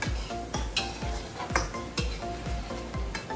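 Onions sauté in a pot as turmeric powder is stirred in, with a spoon clanking and scraping against the metal in a quick regular rhythm over a soft sizzle, close up and with no talk.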